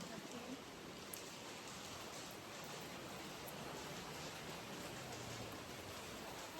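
Steady rain hisses evenly throughout, a dense wash of droplets with no distinct pauses, moderately loud and close.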